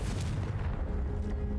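A booming blast from the Confringo fire spell in the PC game Hogwarts Legacy, a loud low rumble with crackling that fills the brief moment and then decays.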